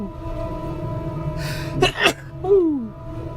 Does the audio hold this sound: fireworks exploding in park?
no